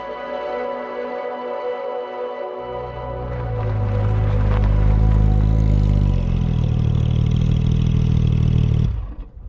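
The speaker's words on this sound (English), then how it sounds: "The engine power is brutal, the exhaust noise is savage" Porsche GT3 RS engine with straight-pipe exhaust, idling with a buzzy tone and then revving hard into a loud, sustained high-pitched howl before the throttle drops away abruptly at the end; close and dominant.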